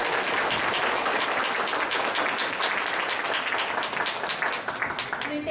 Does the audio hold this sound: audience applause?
yes